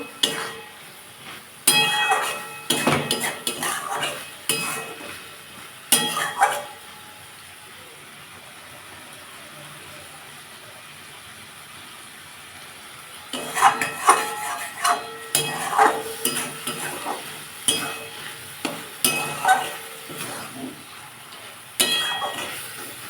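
Spinach simmers in a pan while a spoon scrapes and clatters against the metal in irregular bursts, a quieter stretch of low bubbling in the middle, then more stirring knocks.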